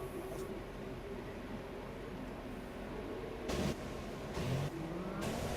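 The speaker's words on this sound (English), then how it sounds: "I hear a couple of cars firing up." F1 cars in a racing video game firing up their engines at the China round: a steady mechanical drone with a few short, sharper bursts near the end, no voices.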